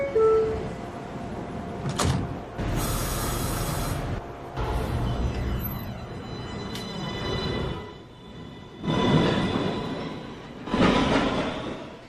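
A New York City subway train on the 1/2 lines at Fulton Street, with loud bursts of door and rail noise, a high chime-like tone, and rumbling carriage sounds that swell and fade over several seconds.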